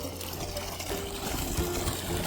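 Water flowing out of a running borewell pump on a farm, a steady trickling, pouring stream heard close up and continuously with no talk.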